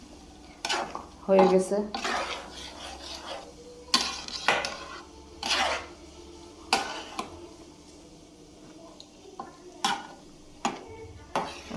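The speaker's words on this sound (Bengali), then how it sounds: "খিচুড়ি বাগার দিয়ে দিলাম" A khichuri tempering in a metal pot, with spoon clanks and scrapes against the pan over a light sizzle. The strokes are sporadic and close, and a voice speaks briefly.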